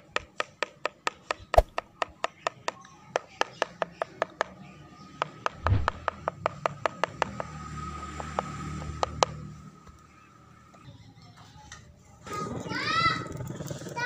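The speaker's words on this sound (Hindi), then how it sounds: "अब छुरी से इसको बिल्कुल बारीक कर लेंगे।" A knife chops aloe vera gel into fine pieces: rapid, evenly spaced taps on a board, close and crisp, that slow and thin out before stopping, followed by a few seconds of other background noise.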